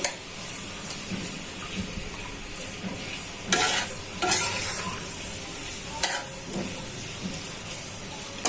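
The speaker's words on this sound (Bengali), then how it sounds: "তো পেঁয়াজটা ভালো করে ভাজা হয়ে যায়।" Onions are fried and stirred in a pan for an egg curry, giving a soft steady sizzle with a few sharper scrapes and clatters of the spoon against the pan. No voices.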